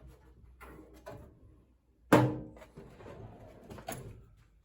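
A tool chest drawer slides open with a sharp metallic clunk, followed by softer rattles and knocks of loose tools and parts shifting inside, close by and fairly quiet.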